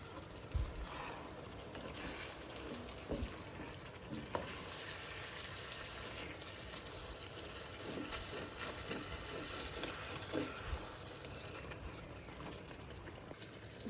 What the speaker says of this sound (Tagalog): Lalagyan natin guys ng konting tubig. Ayan, para may konting sabaw.